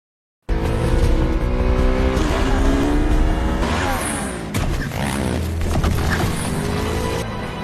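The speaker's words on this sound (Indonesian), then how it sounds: "Lisbeth langsung memacu motornya dengan kecepatan tinggi dan berhasil lolos dari penangkapan tersebut" A motorcycle speeds away at high speed during a chase scene from the film The Girl in the Spider's Web; a loud, continuous engine roar rises and falls in pitch, mixed with tire noise and film soundtrack, with no break.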